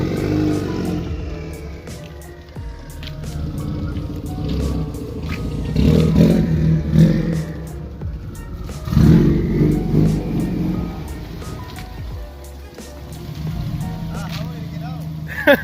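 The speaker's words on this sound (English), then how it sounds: "I'm so jealous of the way his car sounds" A car engine rumbles and revs up in loud surges, with clatter and voices talking over the motor noise.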